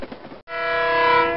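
A speeding train sound effect: rumbling rail noise breaks off briefly, then a loud, sustained, harmonically rich train horn blares steadily for the rest of the moment, close and dominant.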